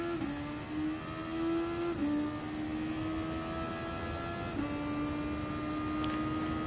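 Super Formula race car engine in the Gran Turismo Sport racing game, on the Austrian GP circuit: a steady high-pitched engine drone that holds pitch, dips on two gear shifts or lifts, then climbs again, with no talk.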